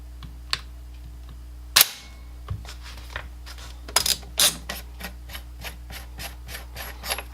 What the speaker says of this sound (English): Lock the bolt back, and then drop your bolt.